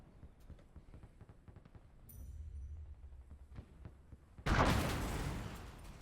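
A Pak 38 anti-tank gun in the Gates of Hell war game fires once, a sharp loud blast with a long rolling roar following after several seconds of quieter clatter and background noise.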